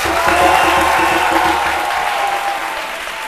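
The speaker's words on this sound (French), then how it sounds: "Applaudissez encore pour vous." Studio audience on a French TV show applauding steadily, a dense wash of clapping with some cheering that fades slightly near the end.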